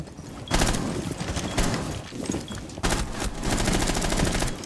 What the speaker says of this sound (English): He actually just shot right through my shield!